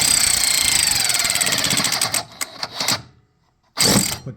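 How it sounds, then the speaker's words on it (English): A cordless battery ratchet whirs loudly and continuously on a used Ariens 28 Deluxe SHO snowblower. It then breaks into several short bursts with gaps, ending in one more loud burst. "I'm running low on battery here on this ratchet."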